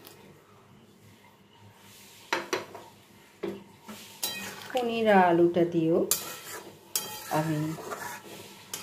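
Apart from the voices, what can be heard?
stirring fried paneer and potato into simmering gravy in pan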